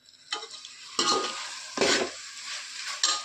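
Chicken with coriander and mint fries in oil, loud bursts of sizzling and stirring scrapes surging in three or four waves over a quieter hiss, close by and with no talking.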